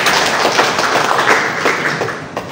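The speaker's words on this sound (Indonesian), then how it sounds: "Sekali lagi tepuk tangan dulu buat prestasi ini" Audience applause at a provincial governor's Independence Day anniversary speech in NTT, Indonesia, a loud, steady wash of many hands clapping close by without talk.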